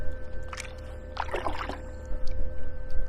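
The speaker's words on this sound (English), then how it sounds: "So what I'm doing, I'm paddling" Canoe paddle strokes in river water on a downstream trail, with close splashes and gurgles in uneven bursts over a constant low hum.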